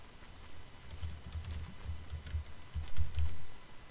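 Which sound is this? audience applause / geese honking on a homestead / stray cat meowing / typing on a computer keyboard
typing on a computer keyboard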